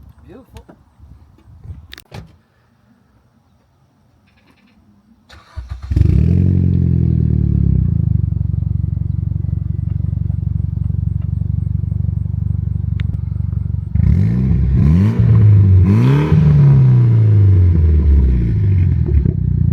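A Mitsubishi Lancer Evolution X engine cranks and fires up after some quiet handling noises, settling into a loud, steady idle, then revs rise and fall in several clear swells toward the end.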